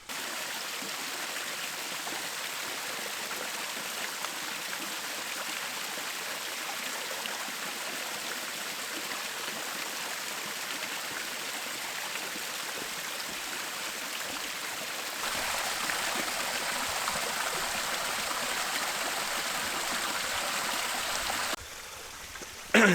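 A waterfall pours steadily in an outdoor setting, a continuous broadband rush of falling water that holds even throughout, with a slight lift in level near the end and no voices.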